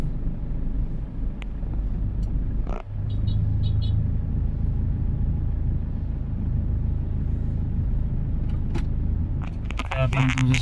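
A high vehicle built for deep floodwater drives along C4 Road from Navotas to Valenzuela during a parade, its steady low engine and road rumble continuous throughout, with wind noise and a few brief clatters.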